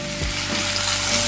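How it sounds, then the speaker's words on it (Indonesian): Shrimp sizzles steadily in hot cooking oil, a loud, close, continuous crackling hiss with a brief stir partway through. "Kemudian goreng udang sebentar beberapa detik."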